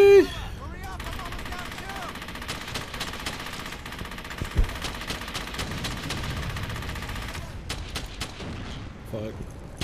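Automatic and rifle gunfire from the World War II shooter game Brothers in Arms: Hell's Highway, rattling in dense continuous bursts with sharper cracks throughout, loud and close beneath battle ambience.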